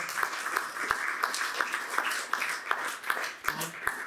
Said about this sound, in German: Applaus bitte, Applaus.